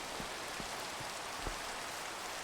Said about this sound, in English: We still got some rain going on.